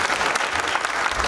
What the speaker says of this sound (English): Would you please give them one more round of applause?